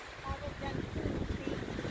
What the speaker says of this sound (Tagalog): Super hangin pa, my Lord.